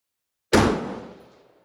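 A single sharp report from an MK18 rifle, a sudden loud blast after silence with a ringing echo that decays over about a second, outdoors.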